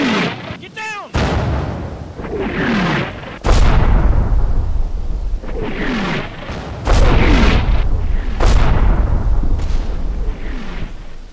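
Mortar rounds firing and exploding in the WWII strategy game Combat Mission: Battle for Normandy, set in Normandy: a series of heavy, booming blasts at irregular intervals, some near and loud, others more distant, with shouted voices between them.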